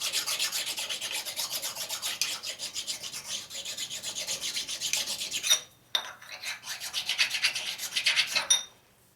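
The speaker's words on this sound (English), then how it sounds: "So you hone with this and make sure there's no sharp edges on anything." Hone rasping over the edges of a 1947 Harley-Davidson EL knucklehead 74ci engine case, a steady close scratchy rubbing in quick repeated strokes, briefly pausing twice before resuming, with no talking.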